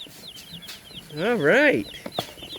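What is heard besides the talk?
baby chicks chirping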